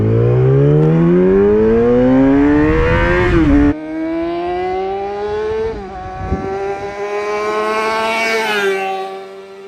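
Yamaha YZF-R6 sport motorcycle fitted with a Tiger aftermarket exhaust roars past at full throttle, its high-pitched engine note climbing through several gears in loud rising sweeps, with a brief shift break midway and no voices.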